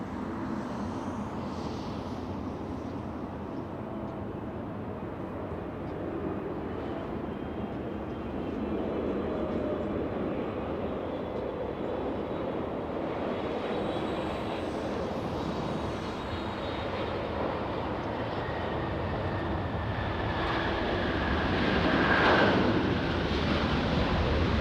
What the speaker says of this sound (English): Landing right now. We have Dynasty. China Airlines flying in from Taipei.